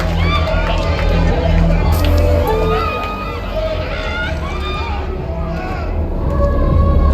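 A crowd around a concert mosh pit in a smoky, dark venue in the game Life is Strange, a steady dense roar of bodies and chatter with scattered shouts, continuous and fairly loud.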